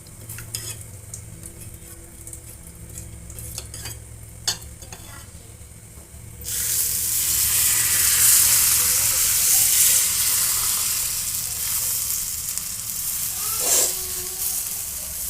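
Dosa batter hits a hot pan and a loud, steady sizzle erupts midway through, after quieter kitchen clatter and faint background voices, then hisses on without pause.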